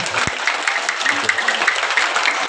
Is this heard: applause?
yes